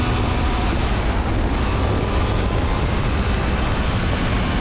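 A Triumph Speed Triple 1200 motorcycle accelerating hard through first gear toward top speed, heard as a loud, steady, dense roar of engine and wind noise held throughout with no talking.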